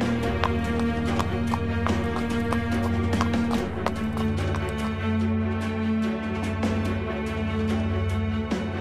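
Horses gallop out of the city of Thăng Long in a Vietnamese historical animated series, their hooves pounding in a rapid, busy clip-clop rhythm, close and steady throughout, with a faint neigh-like note.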